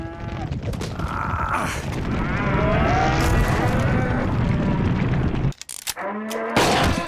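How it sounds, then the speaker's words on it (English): Cartoon cows, steroid-pumped and extra beefy, letting out long, loud drawn-out moos that overlap, then shorter lowing calls after a brief drop near the end. "It's a couple of cows."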